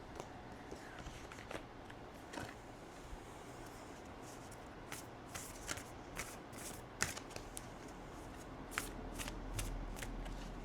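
A deck of oracle cards is shuffled by hand: soft, quick riffling and flicking in irregular bursts, close and quiet, with no talking.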